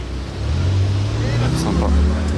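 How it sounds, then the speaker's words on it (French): An Alpine sports car pulls away at a car gathering, its engine revving with a deep rumbling growl that swells over a couple of seconds while someone talks over it. "Départ de cette très jolie Alpine, franchement, elle est ouf"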